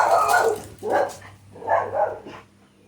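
Several dogs bark outdoors at a distance in three loud, separate bursts, heard alone with no talk over them.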